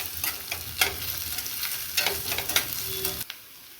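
Crushed ginger and garlic frying in a pan with oil, a steady sizzle broken by several louder scrapes of stirring, close and fairly loud, with no talk, cutting off near the end.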